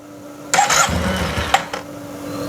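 A Yamaha TMAX scooter that is being revived after ignition work sputters as it tries to start, with a short rough burst of cranking and firing, then a few sharp pops over a low steady hum.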